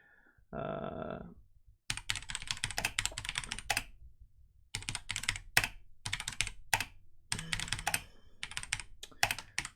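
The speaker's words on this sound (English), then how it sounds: "I know that my keyboard is loud next to my mic" Bursts of loud, clacky keyboard typing close by, rapid keystrokes in uneven runs separated by short pauses.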